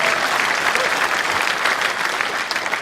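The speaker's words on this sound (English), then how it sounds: "Give yourselves a round of applause" Loud applause fills the hall during the TechEd New Zealand 2013 keynote address, a thick, sustained roar of clapping from a large audience that stays strong for the whole stretch.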